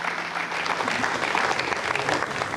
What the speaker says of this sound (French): Donc je vous demande de les applaudir.